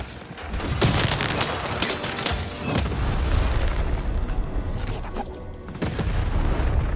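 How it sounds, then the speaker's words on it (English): Cannon fire in the action video game Lost in Random fills the scene with a dense, loud barrage of booming blasts and crashing impacts that continues without pause. "to fire the cannon"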